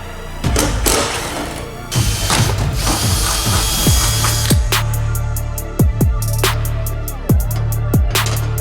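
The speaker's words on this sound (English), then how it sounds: "Got to pull the rear bumper off and start drilling rivets for the new backwoods one." A power drill bores out rivets on the rear bumper of a 2026 Khaos Boost 155 snowmobile, with loud whirring bursts, ratcheting clicks and metallic knocks as the bit catches and releases, close up.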